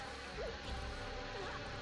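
Bees buzz in The Legend of Zelda: Four Swords Adventures during gameplay. A faint, wavering insect drone with small rises and dips in pitch keeps going under a quiet background.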